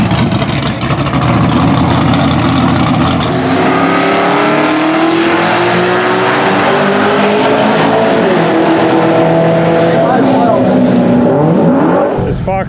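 Foxbody Mustang drag car with nitrous running at the drag strip, a loud roaring engine that climbs through rising revs and gear changes as it pulls away, with a voice talking over it.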